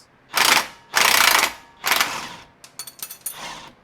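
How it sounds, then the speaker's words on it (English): Impact wrench with an 18mm socket removing rear shock bolts on a Jeep Rubicon 392: several loud, close bursts of rapid hammering, three longer runs then a cluster of short stuttering hits, with no voices. "Using an 18mm socket and ratchet, or in this case impact, we're going to remove the rear shocks."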